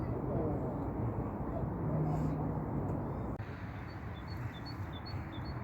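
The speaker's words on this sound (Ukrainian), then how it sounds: "А ви чуєте? Пташечки таки співають." Faint birds chirp and tweet in short repeated notes in the Odesa arboretum on 1 March, over a low, distant background rumble, growing more frequent toward the end.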